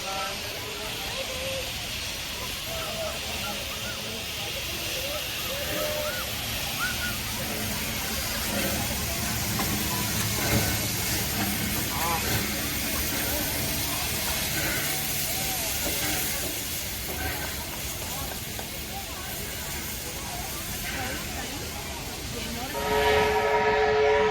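Steam locomotive 3265 rumbles steadily into Maitland at the Hunter Valley Steamfest, a continuous heavy rolling roar with a brief whistle near the end, and a voice talking over it throughout.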